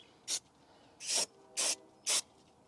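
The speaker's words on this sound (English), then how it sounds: "I'm gonna spray this real quick." An aerosol spray can used during a rear brake install on a 5th generation Toyota 4Runner gives four short, sharp hissing bursts, the last three closer together, in a quiet garage.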